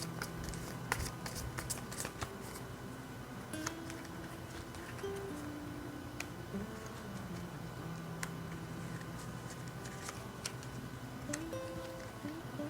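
Tarot cards handled and shuffled at close range, giving soft scattered clicks and flicks over faint steady background tones.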